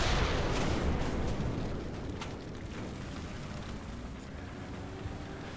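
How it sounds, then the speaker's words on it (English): Tank burning in War Thunder, a loud, continuous roaring crackle of fire with dense low rumble that slowly eases in level, no voices over it. "Also, you can fucking hear that tank burning."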